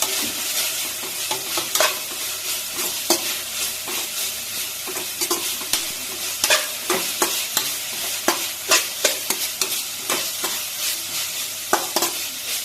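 Cabbage and vegetables frying in a pan with chili powder, a steady sizzle broken by repeated scraping stirs of a spatula, close and fairly loud with no talking.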